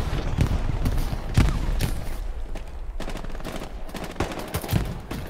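Gunfire rings out in the World War II shooter Hell Let Loose, scattered shots and bursts from several weapons cracking near and far across the whole stretch, with one heavier blast early on.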